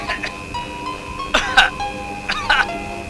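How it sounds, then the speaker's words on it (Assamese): A man coughs in several harsh bursts, two clusters of dry coughs spaced apart over a quiet room. "দেউতাৰ কাহটো দেখোন ভালেই হোৱা নাই"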